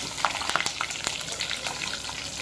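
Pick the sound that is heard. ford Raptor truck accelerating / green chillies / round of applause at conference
green chillies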